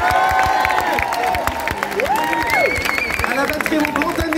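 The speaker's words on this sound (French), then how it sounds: "applaudissements en cœur, s'il vous plaît" A concert crowd applauds and cheers during a performance, steady clapping with gliding musical tones and a voice speaking over it.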